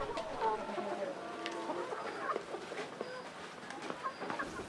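Chickens in a pen cluck and murmur at close range, with scattered short calls and chirps over a quiet background of rustling.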